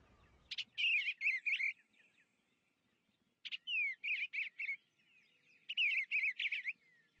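Bluebird song in three short bursts of sweet, warbling chirps separated by pauses, clear and fairly close against a quiet background.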